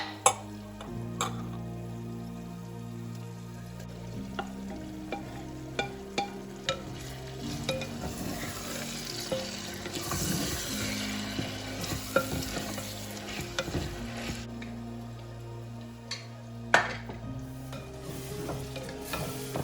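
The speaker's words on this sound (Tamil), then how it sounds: "நல்லா வதங்கிடுச்சு தக்காளி பாருங்க நல்லா முஷியாக வதங்கிடுச்சு" Tomatoes sautéing in a clay pot for fish curry, a steady close sizzle broken by repeated scraping stirs and small clicks of a spoon against the pot, with no voices.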